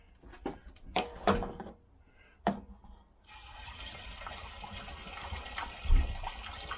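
Petrol poured through a funnel into a Vespa PX200 scooter tank: a few knocks and clunks first, then a steady close trickling, gurgling flow of liquid that continues to the end.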